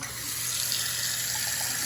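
A repaired Delta sink faucet runs steadily, close and continuous water flow into the basin with no other sounds.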